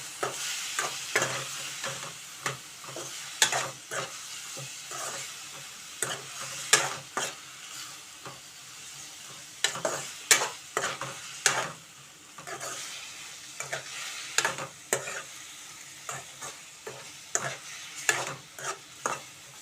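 Ridge gourd and moong dal are stirred in a pan, with steady soft sizzling and a long run of repeated scraping strokes of a spoon against the pan, close and alone with no talk.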